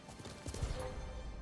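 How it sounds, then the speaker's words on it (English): A horse charges in Ghost of Tsushima, with faint hoof clip-clops and scuffling battle noise under a busy game-sound bed, fairly quiet. "Hold L1 to activate horse charge and knock down groups of enemies."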